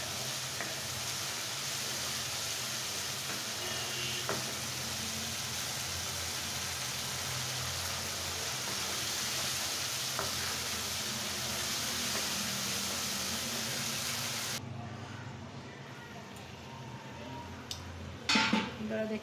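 Spice paste for beef bhuna sizzles and fries in a pan with a little added water, a steady dense hiss with faint scraping of stirring, continuing alone before a quieter stretch with a few clinks near the end.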